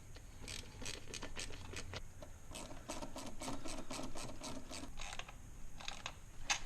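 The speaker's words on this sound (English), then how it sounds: "Place the coupler over the throttle body, tighten all the clamps." Clamps being tightened on an intake coupler over the throttle body of a 2016 Cadillac CTS-V cold air intake: a steady run of quick, close ratcheting clicks, fairly quiet, with no talking.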